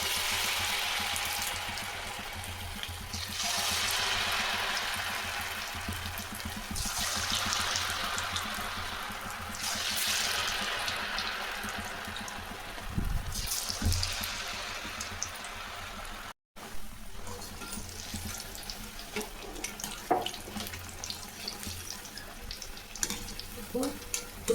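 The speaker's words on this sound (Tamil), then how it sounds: "இப்போ நம்ம போண்டா போடலாம்" Potato bonda made with rice-flour batter frying in smoking-hot oil, a steady close crackling sizzle with swelling bursts as pieces are dropped in, continuing throughout.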